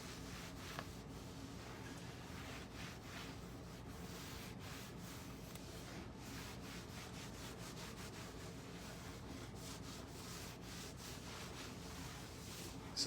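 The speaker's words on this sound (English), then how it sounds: "So I'm going to give it a burnish so it lays down nice and smooth." Gold leaf is burnished onto a table with a steady, quiet rubbing that strokes back and forth close by, soft and continuous, with no voices.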